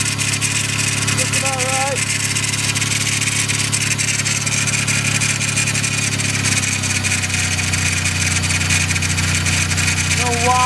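A Nissan Quest (Mercury Villager) minivan engine idles steadily with newly fitted alternator belts spinning, an even mechanical hum that runs continuously while someone speaks briefly.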